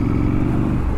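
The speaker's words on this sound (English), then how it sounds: "that 900 engine, it feels bigger. It's really nice and throaty." A 2023 Triumph Scrambler 900 motorcycle's 900 engine runs with a throaty, steady rumble, loud and close for about a second with no talking.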